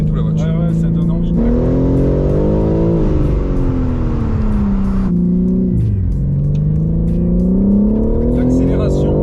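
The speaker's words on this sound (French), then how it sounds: "J'ai l'impression qu'elle patine et tout la voiture." BMW M3 accelerating hard with wheelspin: a loud, close engine note climbs steadily, drops sharply when the throttle lifts midway, then rises again as it pulls once more.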